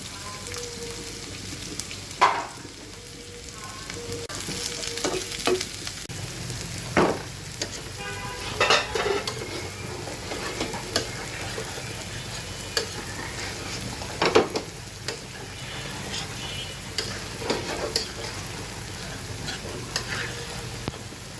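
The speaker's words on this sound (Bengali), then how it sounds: "এখন আমি পেঁয়াজ কুচি এটা আমি একটু বেরেস্তার মতো ভেজে নেবো" Chopped onions fry in a pan for a creamy chicken dish, a continuous soft sizzle broken by frequent spatula scrapes and knocks against the pan, some sharper clanks standing out.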